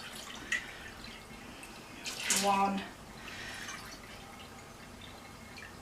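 Vegetable stock is poured from a pot into a canning jar for pea and ham soup, making a brief, splashy liquid gurgle of about a second amid faint kitchen noise. A person speaks briefly nearby.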